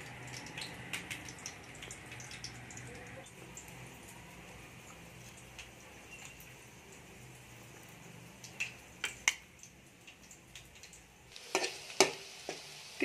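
Oil sizzling steadily while brinjal and green chilli fry for a brinjal chutney, a soft continuous hiss with scattered sharper crackles and pops toward the end, no voices.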